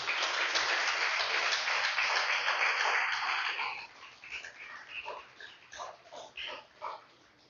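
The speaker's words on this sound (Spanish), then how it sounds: "Denle un fuerte aplauso al Señor" Church congregation applauds the Lord for several seconds in a dense, fairly close burst of clapping, then it thins to scattered claps and murmuring voices.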